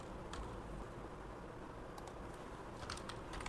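Keys clacking on a computer keyboard while typing in an HTML link, a few quick soft clicks over steady background hiss, fairly faint.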